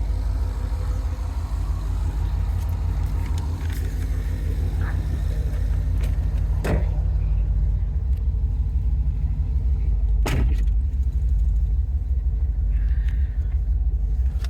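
A supercharged 2007 Corvette coupe with an Edelbrock E-Force supercharger and 599 hp gives off a steady, low engine rumble while driving, heard from inside the car, with a couple of brief knocks along the way.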